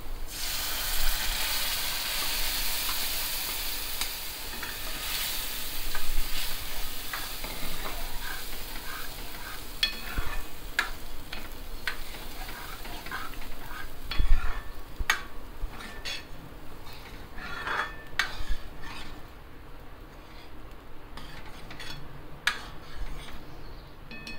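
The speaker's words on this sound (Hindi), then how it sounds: "ऐसे हिला लेंगे दो सेकेंड बस हिलाने के बाद अब हम फाइनली इसमें डालेंगे अपनी दाल" Hot oil tadka with red chili for dal sizzles steadily in a pan while a spoon stirs and scrapes through it, with occasional clinks against the metal, loud and close throughout.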